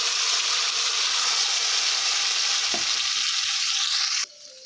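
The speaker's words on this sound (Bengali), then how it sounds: "ফোড়নটা ভালো করে এটা ফ্রাই হয়ে গেলে এবার আমি যে মশলাটা পেস্ট করে রেখেছিলাম সেটা দিয়ে দিচ্ছি" Spice paste hitting hot fried tempering in a pan for a vegetarian yardlong bean dish, giving a loud, steady sizzle and frying hiss with a brief stir, cutting off abruptly near the end.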